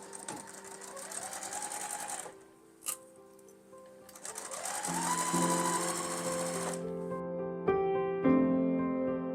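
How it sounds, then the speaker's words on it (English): A sewing machine stitches a quarter-inch seam along the top edge of a fabric pouch, its motor whirring in steady runs with a brief pause and a rising pitch as it speeds up, heard up close. "I'm just going to sew right along the top edge of this pouch with a 1/4 inch seam, just under a 2 stitch length."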